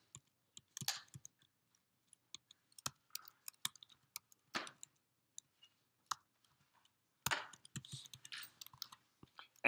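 Scattered clicks of typing on a computer keyboard, coming in short irregular bursts with quiet gaps between them, fairly close and with no talking.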